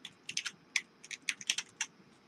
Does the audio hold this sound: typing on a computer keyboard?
yes